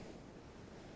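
Sea waves wash in a steady, continuous roar of surf with no distinct breaks, filling the moment evenly with no voice present.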